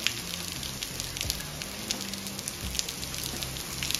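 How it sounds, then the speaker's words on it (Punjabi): Heavy rain pours down in showers, a dense, steady hiss of drops on surfaces with no talk over it. "ਹਾਂ ਵੇ ਵੇਖਿਆ ਕਿਹੜੇ ਉੱਤਰਦਾ ਮੀਂਹ, ਕਿਹੜੇ ਜਿੱਥੇ ਡਿੱਗਦਾ ਸ਼ਰਾਟਾ ਡਿੱਗਦਾ ਕਿਹੜੇ"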